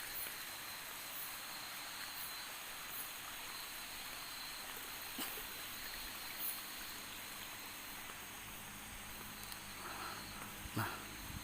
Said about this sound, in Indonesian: Ini suara air guys